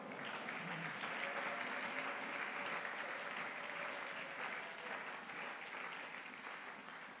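A church congregation applauds and cheers loudly and continuously, a dense wash of clapping and voices filling the room for several seconds, tapering slightly at the end.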